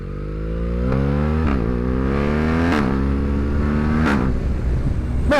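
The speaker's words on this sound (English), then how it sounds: "I really love how BMW has made the quick shift and auto blip on this bike so smooth." BMW R 1300 GS motorcycle riding with quick shift and auto blip: a steady loud engine drone with rising pitch sweeps broken by several quick gear changes, roughly every one to one and a half seconds, with no talking.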